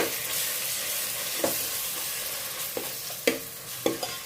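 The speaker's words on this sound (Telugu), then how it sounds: "మంచిగా కలుపుకుందామండి." Coriander powder and garam masala stirred into paneer biryani in a pot: a steady soft sizzle with a few sharp scraping clicks of the spoon, close and fairly quiet, no voices.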